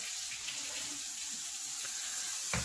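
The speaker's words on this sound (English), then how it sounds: "is going to help with rinsing those lentils" Tap water runs steadily into a kitchen sink as dry lentils are rinsed for lentil soup, a close, even hiss with no voices and a small clatter near the end.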